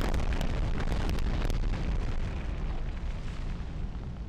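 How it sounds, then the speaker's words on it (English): A muffled explosion in the Medal of Honor video game, from the mission to sabotage the gyro, fills the clip as a dense, continuous broadband roar that stays steady, then slowly thins out and fades over several seconds. "I expected a bigger explosion"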